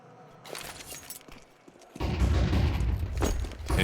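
A Nova shotgun in Counter-Strike on the Ancient map fires close and loud, heavy blasts with shattering impacts, first a few sparse bangs and then a dense, sustained burst of noise.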